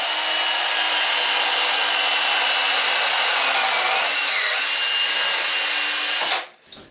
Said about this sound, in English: Right, so I'm just going to drill a pipe hole.